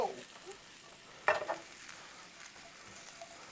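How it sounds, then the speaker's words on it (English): Mushrooms sauté in a pan over high heat with a faint, soft sizzle, broken by a brief clatter of a flip or stir partway through; quiet and close. "with mushrooms, you don't have to saute them too much"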